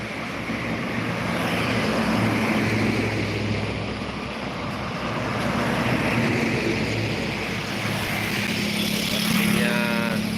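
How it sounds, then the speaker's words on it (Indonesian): Busy street traffic in Palembang, with a motorized becak rumbling along among other passing vehicles, forms a dense, continuous wash of engine noise, and a faint voice comes through now and then. "bentor juga nih, becak motor"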